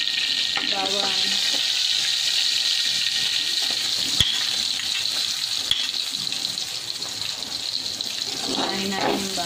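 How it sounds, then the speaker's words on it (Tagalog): Chopped garlic sautéing in hot oil in a pan, a bright, steady sizzle that hisses continuously up close, broken by a couple of sharp clicks and a brief watery gurgle as things are stirred. "Ngayon po, magigisa tayo ng bawang."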